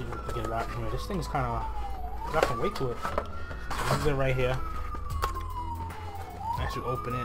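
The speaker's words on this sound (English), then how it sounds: "Sorry for the sirens, guys. I live in New York," Emergency vehicle sirens wail outside in New York, a loud rising and falling tone that sweeps repeatedly under someone talking close by while he handles and unpacks a box.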